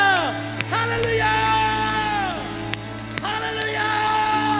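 A Korean church congregation at the Onnuri Church Tuesday Holy Spirit worship gathering lets out loud, sustained shouts and whoops, with voices swelling and overlapping in long, rising cries and a few sharp bursts.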